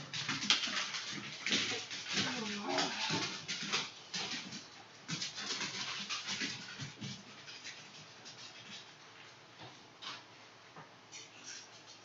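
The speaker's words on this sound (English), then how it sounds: "oh, now the dogs want to go out" Dogs whimper and whine indoors, wanting to be let out, amid faint rustling and brief speech-like sounds over about twelve seconds, moderately loud at first, then quieter.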